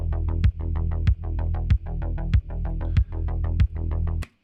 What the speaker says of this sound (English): Carbon Electra has a cool effect here called chorus.